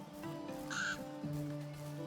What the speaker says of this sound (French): Ah, vous avez entendu un cri d'oiseau